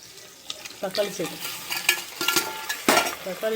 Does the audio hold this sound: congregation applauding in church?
no